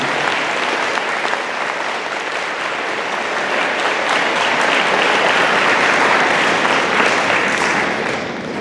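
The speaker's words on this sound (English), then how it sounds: "Can I have one big round of applause for all of the students?" A large audience at an 8th grade middle school graduation ceremony gives the students a big round of applause, steady and loud throughout with no break.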